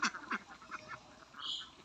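Farm ducks quacking in short, close bursts, several calls in quick succession followed by a softer honk-like call near the end, with no talking.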